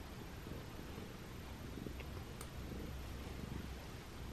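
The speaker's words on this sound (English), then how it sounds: "He's purring." A low, steady cat purr rumbles softly and close, under faint hiss and light rustling.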